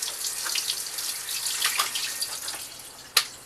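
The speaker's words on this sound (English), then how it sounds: "I just shock them with some cold water." Cold tap water runs over drained, freshly cooked green beans in a sink, a steady close splashing stream with faint drips and a sharp splash near the end, without any talking.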